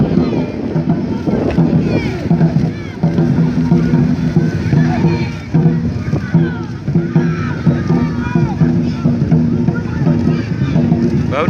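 Dragon boats racing in a port, paddles churning and splashing water in a loud steady wash, with wind buffeting and talk throughout.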